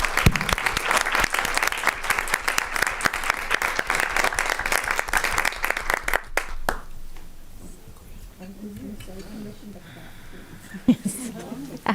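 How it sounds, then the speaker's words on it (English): An audience at a school board meeting applauds in a dense, loud burst of many hands for about six seconds, then the clapping drops away and a person starts talking over quiet room noise. "Let's give them a round of applause."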